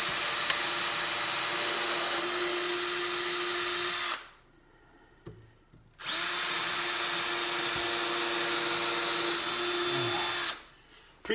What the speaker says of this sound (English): If you don't want screws to strip out, pre-drill your holes.